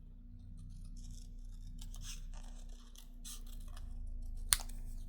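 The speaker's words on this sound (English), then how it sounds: "I'm gonna cut this once in here." Scissors snipping through card paper while a handmade Father's Day card is made, with several quiet, close crisp cuts in short bursts and a faint click near the end.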